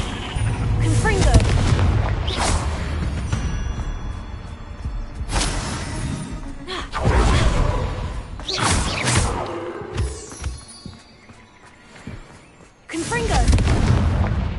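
Repeated fiery blasts of the Confringo spell in Hogwarts Legacy, loud booming explosions bursting every couple of seconds over a steady rumbling game backdrop.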